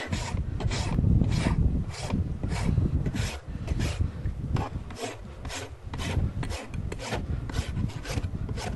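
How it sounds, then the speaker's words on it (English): Steel farrier's rasp filing the flare off a horse's hoof wall, a steady run of close, loud rasping strokes in a quick back-and-forth rhythm, with no talk over it. "Put the rasp on, as you can see, we've taken a lot of that flare out."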